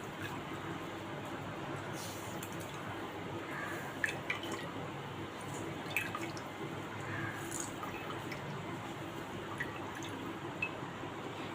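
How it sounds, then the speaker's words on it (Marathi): Coconut milk drips steadily as freshly ground coconut is squeezed by hand for Konkan solkadhi; the drips are soft and scattered, sounding close but faint over a steady background hiss. "खोबऱ्यामधून पाणी जे दूध आहे ते खूप जास्त येत आहे"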